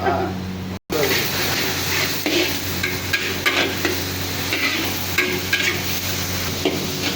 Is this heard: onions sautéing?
yes